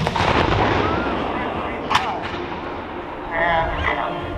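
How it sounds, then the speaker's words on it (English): Cannon fire at a Civil War reenactment battle, with one sharp distant boom standing out over a constant rumble of crowd noise and voices. "much like the battery that's going on, there is a barrage of artillery"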